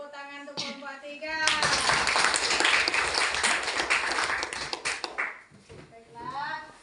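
Classroom applause for a student group in an Islamic studies lesson: a dense burst of clapping hands that swells and holds for several seconds, then fades as a voice speaks before and after.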